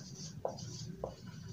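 Soft scratching of writing on a board as a physics equation on energy in simple harmonic motion is written, with two short quiet strokes over a faint hum and no talk.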